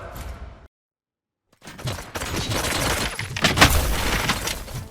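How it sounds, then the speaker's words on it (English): Gunfire bursts and impacts in the RoboCop: Rogue City video game, a brief silence followed by dense, loud, overlapping cracks and clatter that stay busy to the end. "Gunshots? What's going on?"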